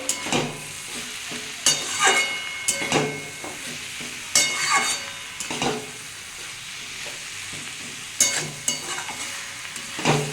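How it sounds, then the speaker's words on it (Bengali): Steady sizzling of cabbage frying in a pan, with repeated scraping and stirring strokes from a spatula, close and fairly loud, no talking. "এটা ভালো করে ভাজতে হবে"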